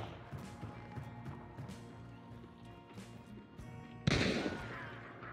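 One sharp, loud gunshot near the end of a stretch of ambient game sound in Hunt: Showdown, its crack decaying into a brief echo.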